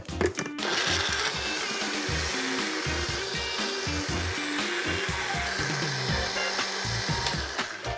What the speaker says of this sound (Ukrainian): Чим довше ви будете тримати блендер, тим рідкішим буде ваш смузі.